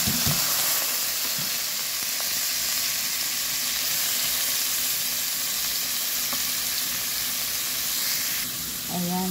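Sliced bitter melon (ampalaya) sizzles loudly and steadily in a hot oiled pan, a constant close hiss with a few faint clinks of a utensil.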